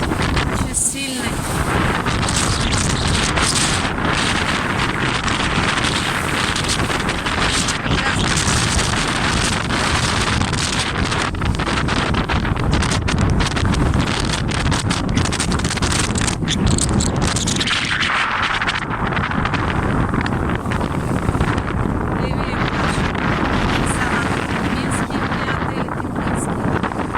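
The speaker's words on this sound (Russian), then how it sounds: "ветер сегодня очень сильный." Strong wind roars continuously at the Black Sea coast near Gelendzhik, buffeting the microphone in a loud, unbroken rush with gusts that swell and briefly ease, no voices present.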